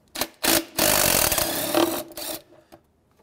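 A ratchet works a 10mm bolt on a Honda Element airbox, giving close, loud bursts of clicking and metallic scraping that stop and start over a few seconds.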